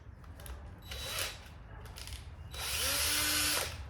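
A power drill with a freshly sharpened bit runs in short bursts, first two brief whirring spurts, then a louder, sustained drilling pass with a rising motor whine near the end.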